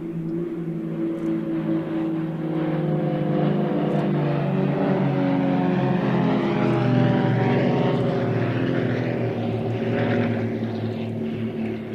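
Propeller aircraft at the Waddington Airshow, played back from a 2011 DVD, drone steadily and loudly for the whole stretch, with engine pitch slowly shifting as the planes pass.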